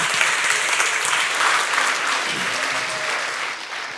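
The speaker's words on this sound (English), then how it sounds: "Give him a round of applause," Sustained audience applause at a graduation celebration, a dense steady wash of clapping from a crowd that holds full strength for about four seconds before easing slightly at the end.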